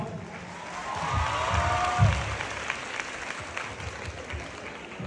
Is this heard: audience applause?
yes